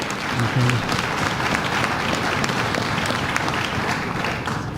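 Steady applause from a crowd at an exhibit opening fills the room, many hands clapping at once, with a few voices mixed in underneath.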